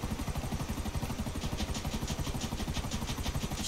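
Helicopter in the video game GTA 5, a steady rotor chop with a pulsing engine drone that stays constant and fairly close throughout, with no voices.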